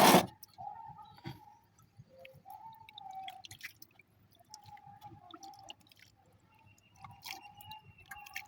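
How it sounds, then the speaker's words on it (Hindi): Water is poured onto a freshly transplanted plant in a pot, making a faint, close, intermittent trickle and dripping in quiet surroundings. "अब इसको भी हम उसी तरह पानी लेंगे जैसे पहले वाले को दिया था।"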